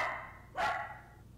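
A dog gives a single close, sharp bark indoors partway through, standing out clearly against a quiet room background.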